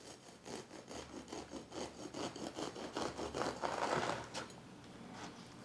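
Sawing and rasping through the dense, root-bound base of a potted rosemary root ball to trim off the bottom inch, a steady run of scraping strokes that grows louder and rougher toward the end.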